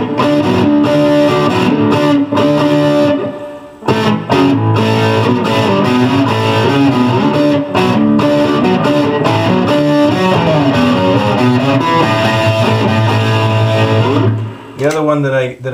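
A Fender Mustang III guitar amp with gain and reverb rings out in a continuous run of distorted, sustained chords and riffs, loud and dense throughout, ending in a brief pause.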